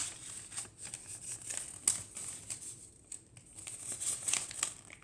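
Paper is folded for an origami boat, giving soft, intermittent crinkles, creases and rustles at close range, with short sharper crackles scattered among quieter pauses.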